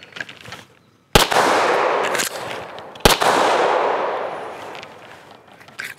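Two sharp pistol gunshots fired about two seconds apart during a timed reload drill with a chest rig, each loud and close with a long ringing decay, preceded by faint handling noise.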